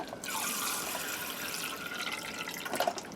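Water and hydrogen peroxide poured into a measuring cup, giving a continuous soft splashing trickle that swells slightly near the end, fairly quiet and without speech.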